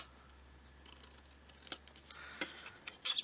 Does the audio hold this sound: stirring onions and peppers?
no